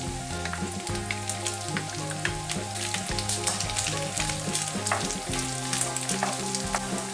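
Sausages and garlic fry for frijoles charros, a steady bright sizzle full of tiny crackles running throughout beneath background music, with no one talking.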